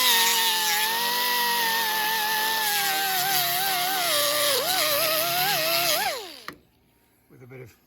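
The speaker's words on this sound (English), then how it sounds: "The next job is going to be to use the various grinders to finish cutting this back to bare" An angle grinder cuts rusty car bodywork back to bare metal on a Triumph Dolomite Sprint under restoration, giving a loud, steady whine with shifting pitch that dips and stops near the end, followed by faint workshop noise.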